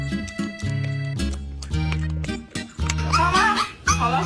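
A puppy barks in a steady run of short yips, then breaks into higher whimpering whines near the end, loud and close with no talking over it.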